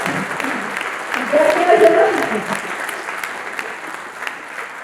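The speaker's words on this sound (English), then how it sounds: "Can you all applaud to the Hall of Fame team?" Audience applause at a District 80 Hall of Fame celebration dinner, steady clapping from a gathered crowd with some voices and cheers rising briefly in the middle before settling.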